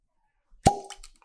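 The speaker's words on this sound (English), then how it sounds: "And so let's just get a fresh cork pop." A cork pops from a 100-proof Angel's Envy finished rye whiskey bottle in one sharp, close, loud pop, with a brief resonant ring trailing after it.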